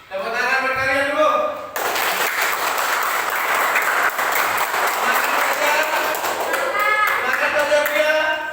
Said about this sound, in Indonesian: Tepuk tangan berkarya dulu.